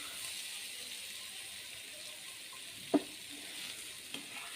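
Cauliflower fries in a pan in a home kitchen, giving a soft, steady sizzle that runs quietly throughout, broken by one brief utensil clink partway through.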